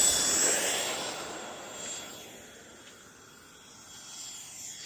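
FMS F18 64mm EDF model jet taking off, a hissing ducted-fan whine loudest at the start, then fading as it moves away, with a slight rise near the end.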